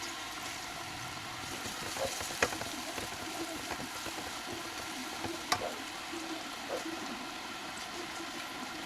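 Garlic sautés in a pan for ginisang patola, a soft steady sizzle with a couple of faint clinks from stirring, quiet and close.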